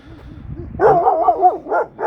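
A Kangal shelter dog barks at an unfamiliar dog at night, a loud close run of rapid barks and yips, with fainter low sounds before it.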